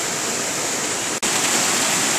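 Creek water flowing during spring runoff in April makes a loud, dense, steady hiss and roar of rushing water, close and continuous, with a momentary dropout partway through.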